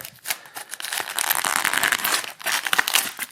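Packing tape on a 17/18 Upper Deck Synergy trading card box is torn through, giving a close, loud run of crinkling, ripping bursts with brief pauses.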